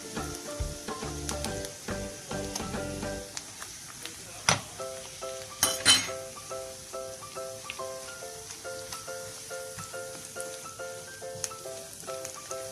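Tomato paste fries in a pan along with boiled potatoes and eggs, giving a steady low sizzle with soft stirring scrapes and a couple of louder clatters over faint background music.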